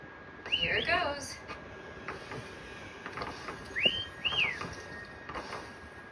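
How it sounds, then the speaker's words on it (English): A character in the video game Wuthering Waves whistles a few short rising notes, with voices talking in between. "Try whistling."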